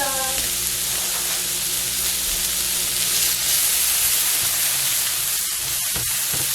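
Bacon and pasta cook together in a single pan, giving a steady, loud sizzle and hiss with a few soft stirring clicks near the end.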